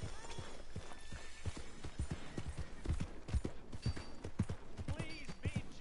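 Horse hooves clip-clopping in Red Dead Redemption 2, a steady walking rhythm of distinct hoof strikes at low volume with ambient game sounds, a brief vocal sound near the end.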